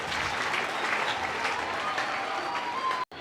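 A church congregation at a Catholic education day closing in Mwene-Ditu bursts into steady, dense applause that fills the room, loud and continuous before cutting off abruptly at the end.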